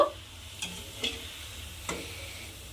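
Pea-filled kachori frying in a little oil in a home kitchen, a soft steady sizzle broken by a few faint clicks and stirring taps, with no one speaking.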